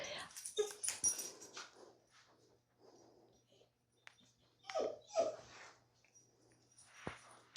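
A dog gives soft whimpers, snorts and small yips close by, scattered in short bursts with quiet gaps, while a person talks quietly in the background at times.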